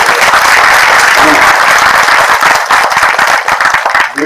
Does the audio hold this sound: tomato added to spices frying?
no